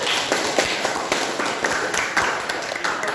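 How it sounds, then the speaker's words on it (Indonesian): A classroom of students clapping their hands together, a quick run of fairly near, sharp claps forming brisk, uneven applause that lasts throughout. "tepuk tangan untuk"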